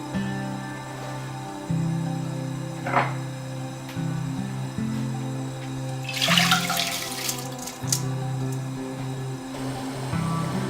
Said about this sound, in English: Wash them with a running water.